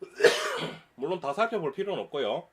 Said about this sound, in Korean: 제가 지금 중간중간에 기침을 하는데요.